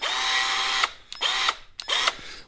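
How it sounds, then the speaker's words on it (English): A Hyper Tough 20V cordless drill runs in three short bursts, each with a rising motor whine that settles into a steady high hum before cutting off, close and loud. "You gotta have a drill,"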